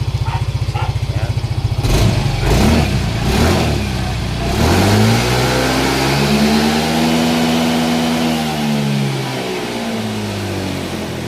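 A remapped Yamaha Mio 125 scooter engine idles with a rapid putter, then revs hard in several bursts before climbing and holding near its maximum RPM, loud and close with no talk over it.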